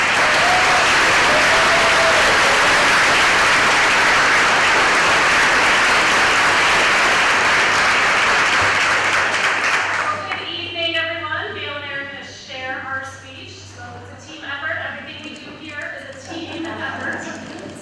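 Loud audience applause at a ribbon cutting ceremony fills the first ten seconds, then fades as a person begins speaking over a low background hum.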